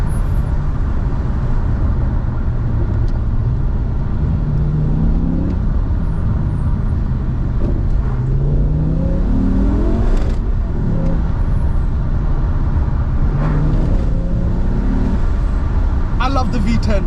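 The V10 engine of a 2005 BMW M6 E63 revs and accelerates in rising, whining surges under near-continuous talking inside the car.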